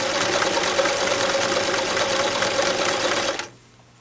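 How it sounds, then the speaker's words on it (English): A sewing machine stitches the seam of a tube scarf in a loud, steady whir that runs continuously, then stops abruptly near the end. "as I'm sewing, you see I'm pulling a little bit, folding the seam over on itself, sewing right near the edge"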